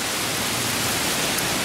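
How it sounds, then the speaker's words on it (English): Heavy rain and wind roar together during a storm, a loud, dense, unbroken wash of noise close by with no pauses or voices. "oh boy, she's raining. And windy."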